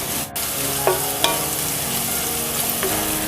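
Chopped ginger and garlic fry over high flame for mushroom fried rice, a loud, close, continuous sizzle with a few light taps of a spoon against the pan.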